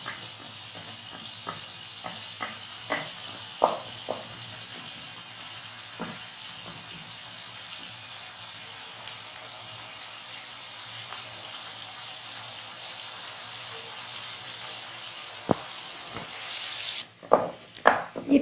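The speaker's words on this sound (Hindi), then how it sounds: "प्याज को फ्राई करना है ऑयल में" Onions frying in oil in a pan give a steady, close sizzle that runs throughout, broken by scattered clicks and stirring knocks, with a few louder clatters near the end.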